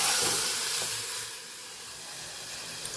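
Boiled urad dal poured into a hot tempering in a pan, a loud hissing sizzle that bursts up at once and then settles into a steady, softer steam hiss.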